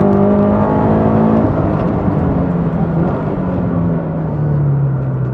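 A turbocharged Toyota 86 race car, tuned to 350 hp, runs on track at Wakefield Park during time attack, its engine loud and close, droning steadily with falling pitch as it downshifts.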